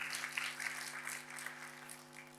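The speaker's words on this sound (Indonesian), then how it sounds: "Tepuk tangannya pula yang paling meriah buat Tuhan kita" Faint applause from a church congregation during a sermon, a soft steady patter of clapping heard at a distance over a low electrical hum.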